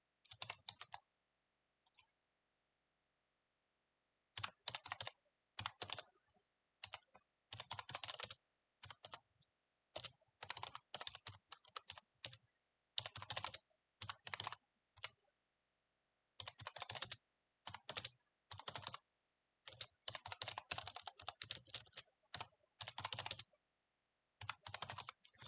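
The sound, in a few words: computer keyboard typing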